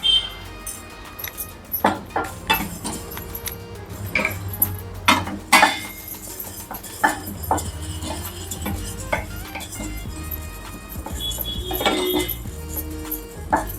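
Urad dal roasting in a pan for Karnataka-style gojju spice powder: a string of light clinks and scrapes of a spoon stirring against the metal, irregular and close, with no talk.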